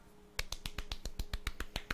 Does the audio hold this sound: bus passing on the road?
no